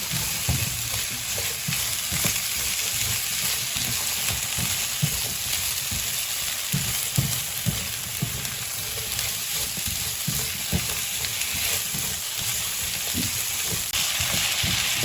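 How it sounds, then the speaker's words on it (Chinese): Small potatoes are stir-fried quickly in a wok, giving a dense, continuous sizzle with frequent tossing and scraping, close up and with no pauses. "快速的翻炒"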